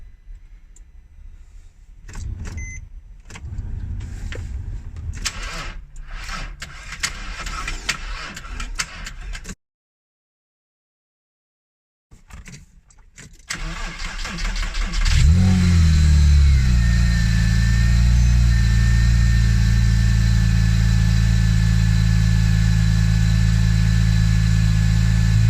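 A widebody Porsche Cayman engine cranks and fires up after a silent gap, then settles into a loud, steady idle close by, following clattering workshop noises.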